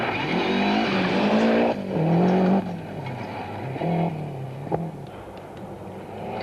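Lancia rally car on an RAC Rally stage, its engine revving hard and shifting pitch as it passes close by, with brief tyre noise and a sharp thump near the end.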